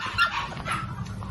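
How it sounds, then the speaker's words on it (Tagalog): Rottweiler puppies about four months old bark and yip in a kennel, with overlapping high barks and whimpers close by. "Meron tayong mga bagong Rottweiler puppies."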